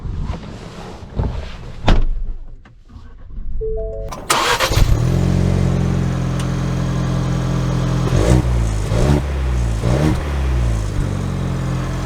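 A 2023 Ford Bronco Badlands with a manual transmission starts up and pulls away, a quiet rustle giving way to the engine catching, then steady driving with several rising revs and gear-shift dips, with wind noise around.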